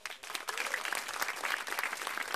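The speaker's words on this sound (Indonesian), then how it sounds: "Tepuk tangan buat mereka boleh." Stand-up comedy audience at a televised Metro TV comic battle breaks into applause, a dense, steady wash of clapping filling the room without talk.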